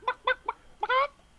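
A person imitates chicken clucking with a quick run of short, throaty clucks ending in a longer drawn-out squawk, close and clear, during a gaming session.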